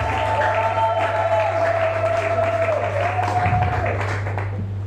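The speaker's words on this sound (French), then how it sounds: "Acclamons pour le Seigneur." A church congregation claps for the Lord at a worship service, a steady, sustained wash of applause over held musical tones and a low hum.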